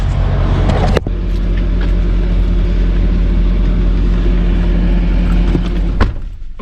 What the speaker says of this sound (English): You can hear a lot of diesel trucks. There's probably 50 diesel trucks out here and they're all running.